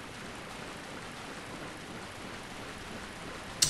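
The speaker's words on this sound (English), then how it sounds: "Now it's raining." Steady rain falls in the Bloodborne video game, a dense, continuous hiss of droplets on surfaces at constant moderate loudness, with a brief sharp click right at the end.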